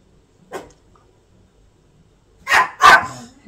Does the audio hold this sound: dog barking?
yes